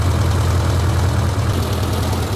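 A BMW 1100G motorcycle engine idles steadily at a regular idle speed, a continuous low throbbing rumble close by, with no talking.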